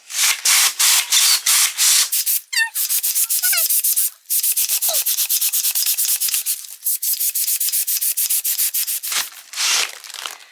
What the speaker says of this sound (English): just grab my hand pump again, just going to pop it in the slot there and then just inflate like I did with the latex balloons